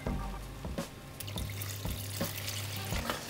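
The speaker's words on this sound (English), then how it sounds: "and then add just a little bit of water." A little water poured into a cooking pot while making Ghanaian jollof rice. The steady splash and trickle runs close and fairly loud, with faint clinks and a low hum under it.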